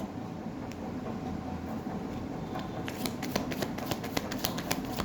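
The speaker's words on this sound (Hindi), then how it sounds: "यहाँ से मैं 2 कार्ड लूँगी।" Tarot cards are drawn from a deck during a reading, with soft, rapid card flicks and slides in the second half over a faint, steady background hum.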